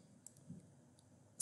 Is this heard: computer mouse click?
yes